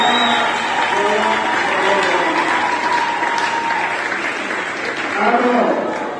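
An audience in a hall applauds for the ISP Gombe at an entrepreneurship day event, a sustained wave of clapping at full strength, swelling slightly near the end, with voices mixed in.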